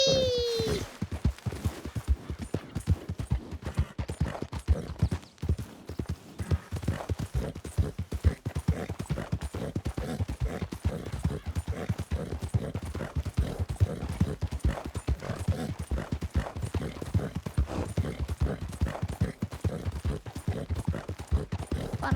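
Horse hooves clip-clop at a steady walking rhythm on a trail in Red Dead Redemption 2 (RedM), close and continuous, with a short whinny at the start and no talking.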